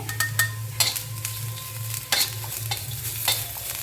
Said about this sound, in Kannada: ಒಂಚೂರು ಫ್ರೈ ಆಗಲಿ ಒಂದು ನಿಮಿಷದ ತನಕ ಈ ರೀತಿ ಹುರ್ಕೋಬೇಕು ಇದನ್ನು